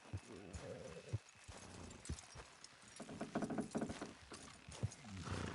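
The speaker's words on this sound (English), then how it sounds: "Horses will pull it clean down." Several horses straining to pull down a wooden structure in Red Dead Redemption II, with clopping hooves, creaking and scraping mechanisms, and bursts of louder effort under a busy game soundscape.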